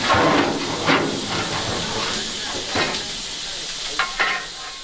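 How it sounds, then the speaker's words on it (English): A steam locomotive under a boiler steam test releases a steady, loud hiss. Brief louder bursts and puffs break through the hiss several times. "Today we're doing a further steam test, following the last test."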